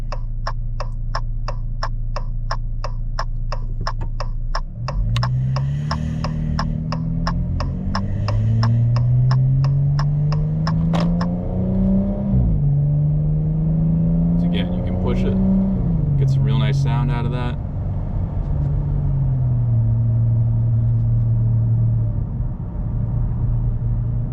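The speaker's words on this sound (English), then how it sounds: "So we'll do a little acceleration here." An automatic car's engine, shifted manually up through the gears to fifth, rises in pitch as it accelerates, droning steadily, with a rhythmic ticking at first and a voice talking over it.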